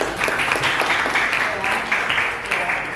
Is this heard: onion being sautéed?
no